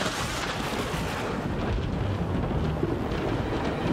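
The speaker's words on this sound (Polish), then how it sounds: "Piorun właśnie uderzył w drzewo." Thunder crashes after lightning strikes a tree in a cartoon storm, a loud sustained rumble with rain-like hiss filling the whole moment, no talk over it.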